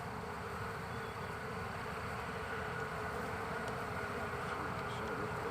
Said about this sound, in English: we got bees everywhere